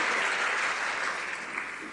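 Sustained applause in the House of Commons, a broad roar of many hands clapping that stays loud and steady, easing slightly toward the end.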